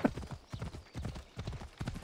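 Horse hooves clip-clopping in the Assassin's Creed Odyssey video game, a steady rhythmic trot of close, moderately loud hoofbeats in repeated bursts across the clip.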